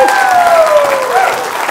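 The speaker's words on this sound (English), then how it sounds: "Give the old man a round of applause." Audience at a Les Brown motivational talk applauding steadily, a dense wash of clapping at close-to-moderate range with a sustained tonal hum or musical note running underneath throughout.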